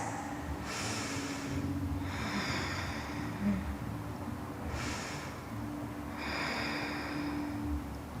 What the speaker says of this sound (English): Breathe into your right lung, 3 long breaths.